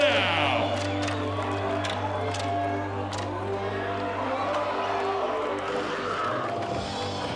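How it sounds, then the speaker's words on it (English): Crowd cheering and whooping at a pro-am skateboarding bowl contest in Malmö, a sustained roar with shouts over a steady droning background hum, fairly distant. "Can I get a round of applause for Björn Lillesoe?"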